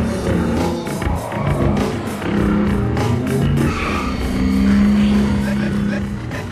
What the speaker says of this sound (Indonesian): Tak lama kemudian, beberapa mobil lain datang.